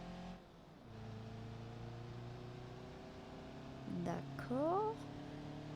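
A bus engine in the driving game BeamNG Drive hums steadily, then climbs in a rising whine as it accelerates near the end, while someone speaks briefly in French.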